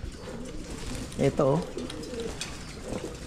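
Pigeons coo a few times near an outdoor bath tub, with soft rolling calls rising in the middle and a person talking quietly nearby.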